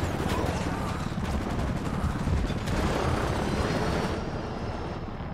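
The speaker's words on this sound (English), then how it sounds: "Come on, chopper. Stop shooting me." An attack helicopter's rotor drone fills a gunfight in the Ghost Recon Wildlands game, with dense rapid gunfire bursts crackling continuously on top, loud and close throughout.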